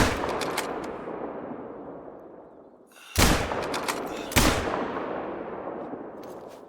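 Hunting rifle fired in a hunting game on a turkey hunt, two sharp, loud shots about a second apart, each followed by a long rolling echo that fades into outdoor ambience, no voices.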